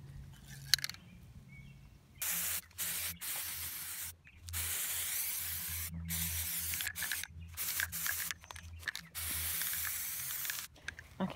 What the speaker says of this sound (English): I'm going to spray all the chairs down with Kills as a primer